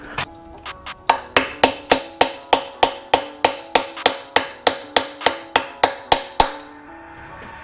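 A hammer drives a new bushing into a Yamaha Raptor 700R flywheel cover in about eighteen sharp, evenly spaced metallic strikes, loud and close, with each blow ringing briefly before the next and the final hit fading into a short decay.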